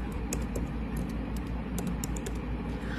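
A computer keyboard is typed on in quick, close, clicky keystrokes that come in a steady series over a low background hum.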